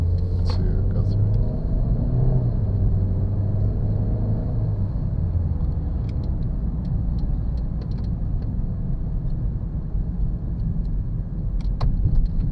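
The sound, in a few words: 2013 Kia Soul engine revving with gas applied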